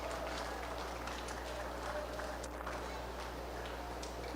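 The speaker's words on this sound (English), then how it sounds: "let's give these exhibitors and the ones in the back a nice round of applause" Crowd applause at a county fair 4-H and FFA beef cattle show for the exhibitors, a steady wash of clapping hands throughout, moderately near and fairly even in level.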